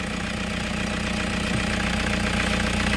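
A Toyota Hiace GL van engine idles steadily and close by after starting, a low rumbling hum with a faint, even knocking pulse throughout.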